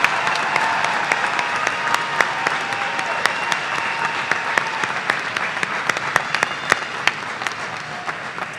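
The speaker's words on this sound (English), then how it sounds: "Please let's give our master's students a round of applause" A large audience at a university commencement ceremony claps continuously, sustained applause with individual sharp claps popping out of the steady roar.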